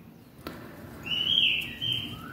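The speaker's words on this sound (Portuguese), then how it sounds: "Olha meu passarinho cantando." A pet songbird sings in a crochet workspace, a bright warbling phrase rising and holding for about a second midway, fairly close, over a low room hum with no talk.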